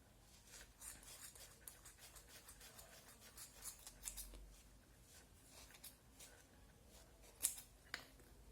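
Scissors snip repeatedly through yarn while the sides of a knitted pompom are trimmed on a template for a baby's basket-stitch hat, a series of soft, close, quiet cuts with one sharper snip near the end.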